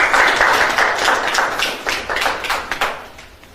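Applause from a live audience welcoming Punjabi poet Fayyaz Ahmed Aas onto a stage at a poetry gathering, a steady, fairly loud wash of clapping that holds throughout and breaks into a few sharper individual claps near the end.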